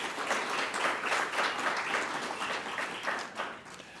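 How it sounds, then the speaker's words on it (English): Crowd applause at a cricket championship kick-off press conference, steady clapping from many hands that tapers off near the end. "we want to give you a round of applause for that"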